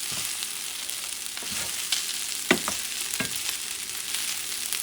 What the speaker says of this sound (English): And I'm doing is mixing everything.